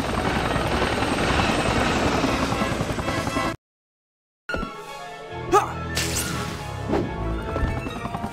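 Helicopter in the PSP game Spider-Man 2, a loud dense rotor roar that cuts to a second of silence, then resumes with lighter whooshes and thwacks.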